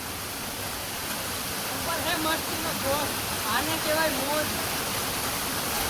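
Waterfall at Jatashankar in the rain, a steady broadband rush filling the whole clip at a constant level, with a voice talking over it in the middle.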